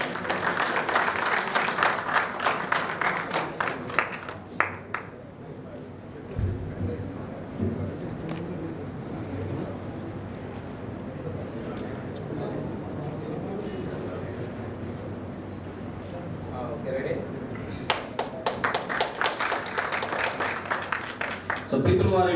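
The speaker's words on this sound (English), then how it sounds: "Big round of applause." At an insurance agents' seminar, a hall audience gives a big round of applause: dense clapping at the start, then a long stretch of murmuring and talk, and a second burst of clapping near the end.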